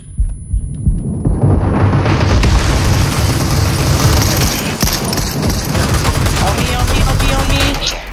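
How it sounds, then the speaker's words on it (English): Shotgun blasts in a multiplayer shooter video game, a dense, loud stretch of booming gunfire and impacts that keeps going almost without a break, with players' voices faintly in the mix. "Oh, he got a shotgun."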